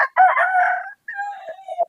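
A rooster crows close by, one long strained cock-a-doodle-doo that breaks off briefly and then trails away, with no other sound around it.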